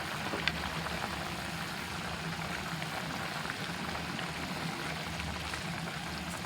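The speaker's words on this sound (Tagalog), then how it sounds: "So, maglalagay ako ulit ng vinegar. 1 tablespoon." Pork patatim simmers in a covered pot with vinegar in it, giving a steady, close bubbling hiss that runs unbroken and alone.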